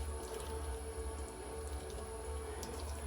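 Water runs steadily into a pan of potato and cauliflower curry, a continuous close splashing hiss with a low rumble underneath and no speech.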